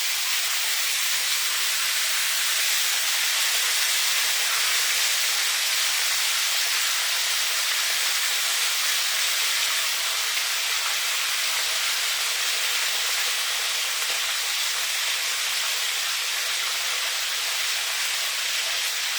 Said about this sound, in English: you are going to be cautious of the sizzling that might come up and splash you